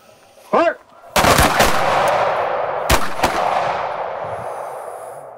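Pistol shots crack at close range during close retention shooting on an outdoor range in Nashville, one sharp report followed by a quick pair and then two more, each trailing off into a ringing decay, with a brief spoken command just before.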